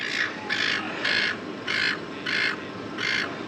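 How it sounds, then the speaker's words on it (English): A seagull gives six harsh, evenly spaced calls, fairly loud over a soft background of ambient noise. "Got a very noisy seagull here in the background"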